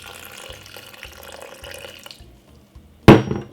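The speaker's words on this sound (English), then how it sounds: "Some water." Water runs steadily into a container for a sweet pepper and ginger drink, a close continuous trickle that fades out, followed by one sharp clink near the end.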